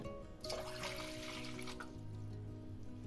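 Water, two cups, pours steadily into a saucepan close by, a continuous splashing trickle with no talking.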